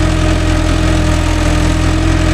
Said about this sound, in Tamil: வண்டி இன்ஜின் சவுண்டு எப்படியே நீங்களே சொல்லலாம்